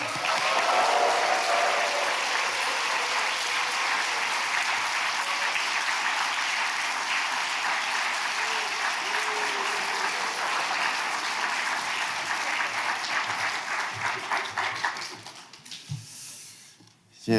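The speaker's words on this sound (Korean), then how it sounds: "우리 목사님 나오실 때 여러분들이 보낼 수 있는 최고의 환호와 격려로 환영해 주시면 감사하겠습니다" A church congregation at a Korean general assembly evening revival service cheers and applauds to welcome the pastor: dense, sustained clapping from a large crowd that fades out near the end.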